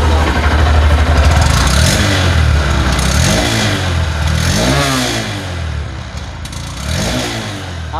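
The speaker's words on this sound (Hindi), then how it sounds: "आपको इसके एग्जॉस्ट का साउंड कैसा लगा आप कमेंट में बता सकते हैं।" A Honda SP 125 motorcycle engine idles and revs through its exhaust, a loud continuous mid-pitched rumble with rising and falling throttle swells, close by and with no talking.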